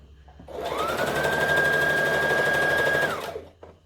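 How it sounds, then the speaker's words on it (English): A sewing machine stitches a rolled hem on a Butterick B5655 top in one steady, loud, close run of about three seconds. The motor whirs up, holds an even pitch, then winds down. "you can just stitch along it"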